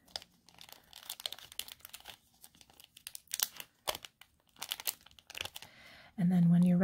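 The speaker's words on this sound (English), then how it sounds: "They come in this little plastic package." A sealed plastic package of nail polish strips is crinkled and handled up close in quiet, soft irregular crackles and crisp bursts, ending with a short louder tonal sound.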